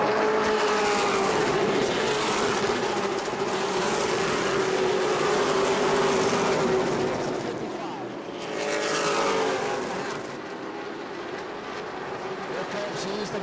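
Race cars roar around the banked New Smyrna short track during a World Series event, engines loud and sustained with pitch shifts as they power through the turns, fading slightly then surging back, under a commentator's voice.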